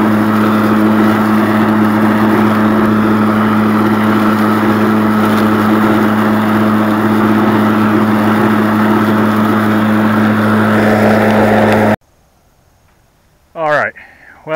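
A Stihl electric battery push mower cuts grass with a steady, close whirring motor hum for about twelve seconds, then stops, leaving near silence with one brief knock.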